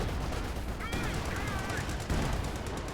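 Gunfire peppers anti-tank guns in the Company of Heroes 2 video game, with bursts of rapid game shots and explosions forming a steady dense battle din throughout.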